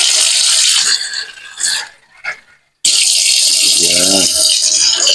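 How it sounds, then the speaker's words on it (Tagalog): Tap water runs into a pot being filled for boiling eggs, a loud broadband rush that cuts out briefly mid-way and then resumes, with a faint voice murmuring underneath. "Dadagdagan natin ng tubig."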